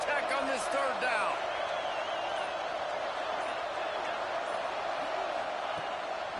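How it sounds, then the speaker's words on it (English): Football stadium crowd roaring during a third-down play for Tech, a loud, sustained wall of cheering and noise that holds steady throughout, with a commentator talking over it. "The crowd electric trying to help Tech on this third down."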